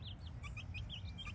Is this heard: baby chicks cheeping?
yes